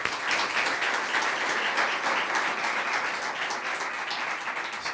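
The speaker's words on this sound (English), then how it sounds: "we should applaud them while we're at it" Steady applause from an audience at an athletics director appointment event, dense clapping holding evenly for the whole stretch with no talk over it.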